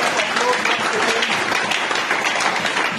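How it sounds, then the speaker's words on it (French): A church congregation applauds during a sermon, producing a loud, dense and continuous roar of clapping from many people, with voices mixed into the crowd noise. "God deserves to be applauded."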